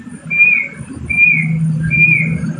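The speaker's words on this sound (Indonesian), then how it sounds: "Oh, burung." Wild burung panoce, a songbird, chirps outdoors in three evenly spaced, clear whistled calls over a low steady background hum, fairly close and distinct with no talking.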